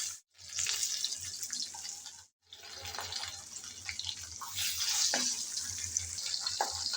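Fish frying in hot oil in a pan on a stove: a steady hissing sizzle that fills the scene, close and fairly loud, broken by two brief silences and a few light crackles.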